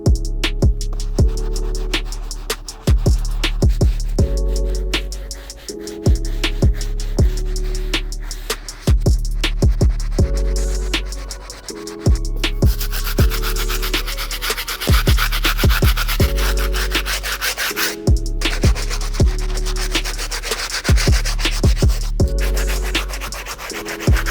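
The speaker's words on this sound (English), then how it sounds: "I'm gonna go ahead and attack this outsole with the stiff brush" A stiff bristle brush scrubs the outsole of an Adidas Nite Jogger sneaker in loud, steady back-and-forth strokes, with repeated scraping bursts and no talk.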